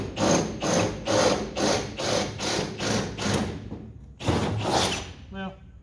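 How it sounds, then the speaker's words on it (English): A 5/16 drill bit bores out a spot weld in sheet metal, giving a series of about eight loud, rhythmic grinding bursts of equal length, then a brief pause and one more burst that trails off. "We're going to drill out hopefully just as much as it takes to pop that weld loose"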